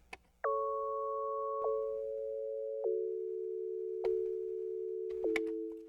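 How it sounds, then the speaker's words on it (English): Synthesized sine-wave pluck notes with reverb and a short 12-semitone pitch drop on each attack; five clean plucks land at uneven intervals, each ringing out in a long, smooth reverberant tail with nothing else behind them. "So this is a typical sine wave pluck that I always make."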